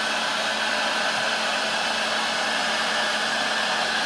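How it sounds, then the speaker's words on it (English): Heat gun blowing hot air to shrink heat-shrink tubing on an audio cable, a loud, continuous, even rushing roar held steadily throughout with no talking. "Heat gun, about 10mm in front of the heat gun."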